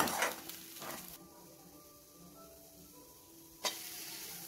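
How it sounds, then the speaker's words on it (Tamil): An egg frying in a pan for egg fried rice gives a faint, quiet sizzle, with a couple of brief scraping knocks at the start and one sharp clatter near the end. "எக்கு நல்லா ஃப்ரை ஆகிடுச்சு"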